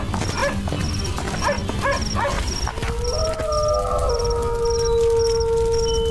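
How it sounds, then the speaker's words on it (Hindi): Cartoon street dogs bark and yelp in a burst of overlapping barks during the first few seconds, then fade into a sustained howl and whining tones over background music. "गली के कुछ कुत्ते बिलवा और चतुर सिंह को अंजाम गिरती देख भौंकते हुए काटने दौड़ते हैं"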